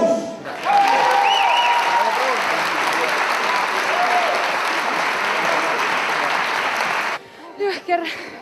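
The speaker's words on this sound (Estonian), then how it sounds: "Aplaus!" Audience at a bodybuilding and fitness championship claps loudly and steadily for about seven seconds, a dense wash of applause with a few cheers, before it drops away and a voice comes in near the end.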